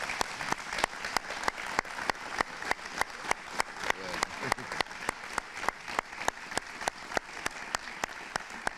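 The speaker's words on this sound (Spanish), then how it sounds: "pido un aplauso para Mar" Applause from a lecture audience closes a talk on politics, corporations and democratic construction, a steady run of distinct, evenly spaced claps close by, with a fainter wash of clapping behind them.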